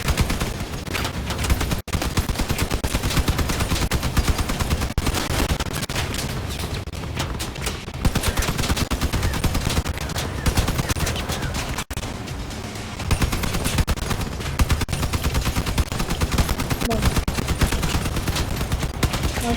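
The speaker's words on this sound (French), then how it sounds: "avec des mitraillettes, des explosions." Machine gun fire in the vehicle combat video game Crossout, dense continuous bursts with rapid shots and occasional booms, loud throughout apart from two brief gaps.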